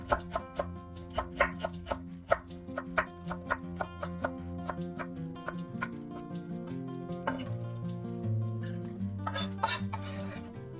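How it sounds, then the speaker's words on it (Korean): Rhythmic knife chops on a cutting board as carrots are julienned, a steady run of crisp taps over light background music. "당근 100g은 채 썰어주세요."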